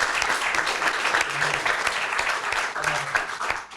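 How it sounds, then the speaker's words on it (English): Town hall crowd applauding a retiring police chief who served 37 years: steady, dense clapping from many hands, sustained throughout with a few brief murmurs underneath. "I would ask for a big round of applause."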